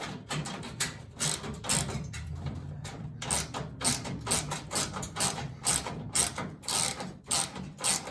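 A ratchet wrench tightens lock nuts onto the bolts of a front spoiler under a muscle car bumper, quick rhythmic clicking bursts in repeated runs with brief pauses, close and clear with no talking.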